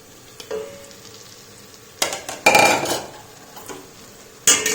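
Close, loud scraping and clattering of a utensil stirring fried prawns into masala in a pan, in several short bursts over a soft sizzle.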